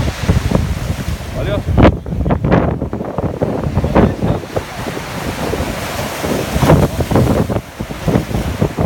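Ocean surf washes along the seafront in Nice, France, heavily buffeted by wind noise on the microphone, a steady loud rumble with swelling surges throughout.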